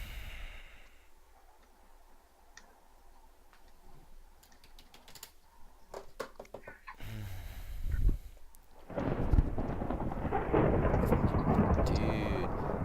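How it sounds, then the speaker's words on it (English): Thunder in the Minecraft video game: a low rumbling crack builds around the middle, then a loud, sustained roll of in-game thunder with rain-like hiss fills the second half, with scattered clicking keyboard typing throughout. "Dude, I love the sound of the thunder"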